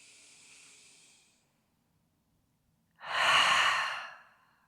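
A person breathes slowly and deeply during a yoga flow, with a soft airy inhale followed by a pause and then a louder, long sighing exhale close by.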